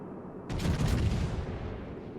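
Battleship gun volleys in World of Warships: a heavy, booming salvo that rolls out and decays slowly, loud and alone.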